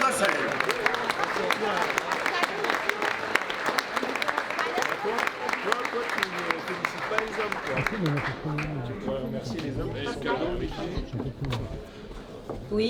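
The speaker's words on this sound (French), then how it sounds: "je voudrais qu'on l'applaudisse" Audience applause at the 37th congress of a mountain association, honoring a retiring member's wife: dense, steady clapping mixed with voices and chatter, then thinning toward the end.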